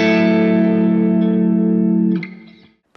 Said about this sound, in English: another chord that really speaks to me that has that kind of Midwest emo feel is a minor 7 chord